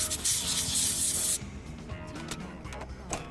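A portable air compressor: a steady hissing, rushing mechanical noise runs loud for over a second, then drops to a quieter hum with light clicks and rattles.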